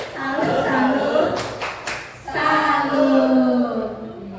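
Children in a classroom do a 'tepuk salut' rhythmic clap, with a few quick sharp claps in the middle set between chanted, sing-song voices before and after.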